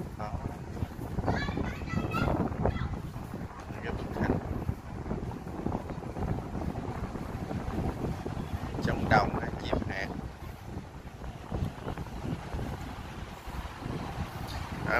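Wind gusts steadily across an open lake at the Hung King temple grounds in Can Tho, a constant rushing roar buffeting the microphone for the whole stretch with no clear pauses.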